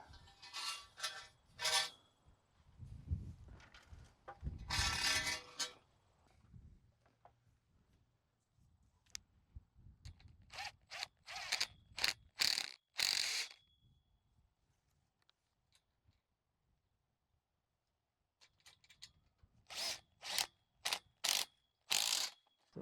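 A ratchet cranks carriage bolts tight on a DIY roller trellis hoop frame, bursts of rapid clicking strokes repeating in several close, loud spells separated by pauses and faint handling noise.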